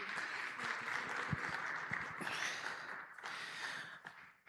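Audience applause at a banking summit for a guest speaker, fairly faint and uneven, with scattered claps and crowd murmur that thins out toward the end.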